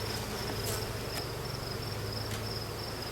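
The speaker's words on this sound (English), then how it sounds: "These are our winter bees." Honey bees of a winter cluster drone steadily inside an open hive during a fall inspection, a dense continuous hum with a thin high whine above it and no pauses.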